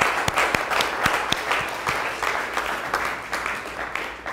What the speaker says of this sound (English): Please, can I have a round of applause for my one, Christine Alessandro?